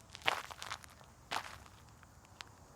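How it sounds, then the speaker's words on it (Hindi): Footsteps approach from behind as a horror story sound effect: a few soft, crunching steps spaced unevenly across the quiet, faint and close, alone with no voices. "तभी पीछे से कदमों की आवाज आई।"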